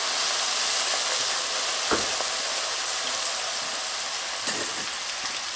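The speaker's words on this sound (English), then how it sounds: "once you have the beer in there, all you do is scrape the bottom of the pan" Beer deglazing a hot Dutch oven sizzles and hisses steadily throughout, with a couple of faint scrapes of a utensil across the pan bottom around the two- and four-and-a-half-second marks.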